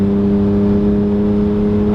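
A BMW E46 M3 cruising on the road, its steady engine drone and tonal hum loud and continuous from inside the cabin, with no sharp revving changes.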